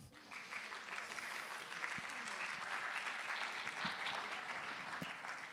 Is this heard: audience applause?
yes